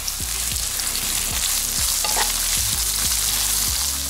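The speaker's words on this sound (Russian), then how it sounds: "Отправляем лук обжариваться. И вот так вот мелко нарезаем чеснок. И тоже он пошел сюда." Chopped onion and garlic frying in a pan, a loud continuous sizzle with regular scraping stir strokes about twice per second, no voices.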